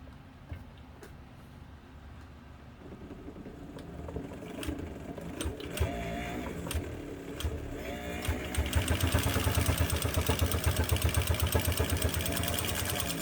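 A Kenmore 117.552 sewing machine stitches through two layers of leather with heavy thread, its motor whirring up from slow to a fast, steady mechanical rattle that grows louder toward the end.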